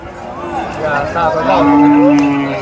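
Cattle moo repeatedly at a bull market in Sangola, with long, fairly loud calls from animals close by and a busy crowd murmuring underneath.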